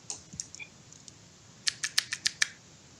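A Razer Chroma keycap keychain is pressed and clicked on a desk. A few light, scattered taps lead into a quick run of six crisp, evenly spaced clicks, close and clear.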